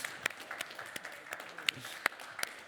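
Scattered, faint hand claps from a small convention audience greet musicians coming on stage, with a handful of separate sharp claps standing out over a low murmur of room noise.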